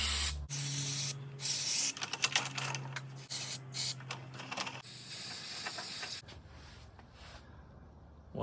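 Cleaner sprayed onto the bearings of a Harbor Freight jack on a table, a series of close hissing spray bursts over a low hum, ending in a longer hiss.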